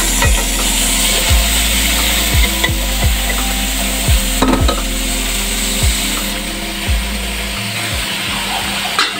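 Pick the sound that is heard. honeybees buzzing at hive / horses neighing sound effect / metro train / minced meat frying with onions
minced meat frying with onions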